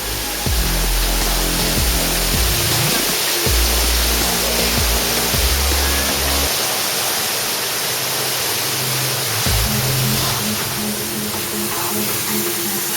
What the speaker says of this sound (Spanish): Estamos metidos justamente debajo de la cascada en este momento.